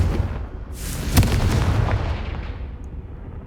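A Confringo spell explosion in a video game erupts as a single loud, broad boom with a crackling burst, then rumbles and fades over a few seconds, heard alone.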